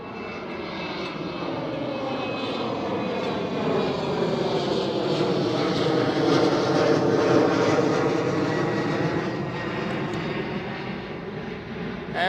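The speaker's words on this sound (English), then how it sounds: "KLM City Hopper E190." A KLM Cityhopper Embraer E190 airliner roars past at Amsterdam Schiphol airport, its jet engines swelling to a loud broadband rush midway and then easing off, with no talking.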